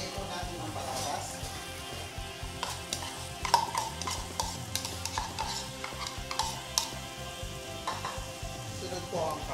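Pork and potatoes cook in a pot with a steady low sizzle and repeated stirring scrapes and light clinks against the pot, while a voice talks faintly in the background.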